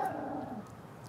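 A small dog out on a walk gives a brief, faint whimpering yip close by, fading within a second, with no talking.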